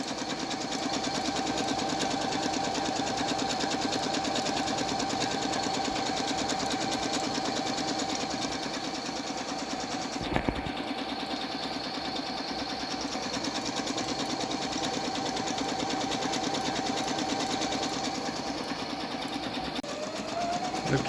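A Singer Fairyland sewing machine stitches an embroidery design in one long, continuous, steady hum and rapid needle rattle, with a brief sharp knock partway through and a slight change in pitch near the end.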